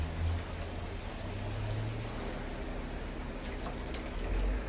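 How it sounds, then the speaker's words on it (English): Water pours steadily and splashes into a ZeroWater filter pitcher close by, a continuous gurgling rush that swells slightly at the start and end, with no voices. "I'm not doing a good job of pouring. It's splashing down the side."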